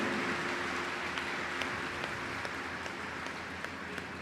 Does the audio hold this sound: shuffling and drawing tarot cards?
no